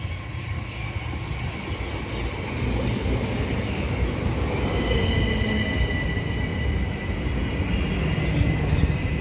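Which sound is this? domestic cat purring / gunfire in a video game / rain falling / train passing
train passing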